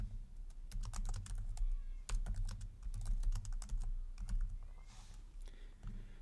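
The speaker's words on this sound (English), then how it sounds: "So I'm going to double click and type that in." Close, quick typing on a computer keyboard, a brisk run of sharp key clicks in uneven bursts with a brief pause midway, over a low steady hum.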